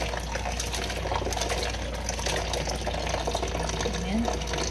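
Grated papaya being washed under running water, a steady, close gush and splash that continues without a break, with someone talking faintly beneath it.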